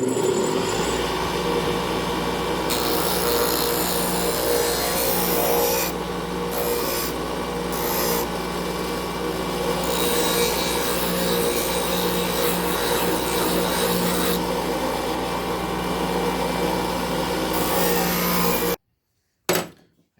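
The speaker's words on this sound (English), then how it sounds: "As I said, I'm going to use a bench grinder." A bench grinder grinds the edges of a metal sign, giving a loud, continuous, close abrasive roar with slight changes in pitch as the workpiece is pressed and moved, then abruptly stops near the end.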